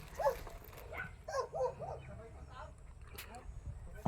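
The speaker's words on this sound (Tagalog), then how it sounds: "merong din aso dito eh" A dog gives a few short yips and whimpering barks up close, spaced unevenly against a quiet outdoor background.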